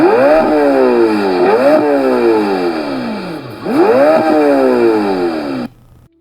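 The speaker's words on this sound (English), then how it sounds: "The Temerario's engine sounds fantastic." A Lamborghini Temerario engine revs hard and close, loud repeated rising sweeps climbing in pitch then dropping back, several blips in a row before cutting off abruptly at the end.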